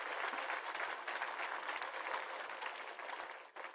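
Steady audience applause fills a school gathering, a dense continuous wash of many hands clapping at moderate loudness that thins slightly near the end.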